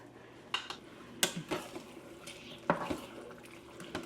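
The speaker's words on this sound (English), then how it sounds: "Okay, so I'm going to stir this up some more." A spoon stirs black bean chili in a multicooker pot with a few quiet, scattered clinks and scrapes against the metal over a soft, wet background.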